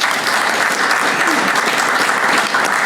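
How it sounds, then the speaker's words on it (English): Applause from the audience at a 2022 veterans' recognition breakfast, a loud, steady roomful of clapping that fills the short stretch without pause. "Give them a round of applause."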